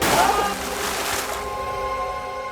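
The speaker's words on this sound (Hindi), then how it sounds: "ये तो किसी के पानी में गिरने की आवाज है।" A person falling into water, with a heavy splash followed by sloshing and churning water fading into a steady wash, as a tense drama score plays alongside.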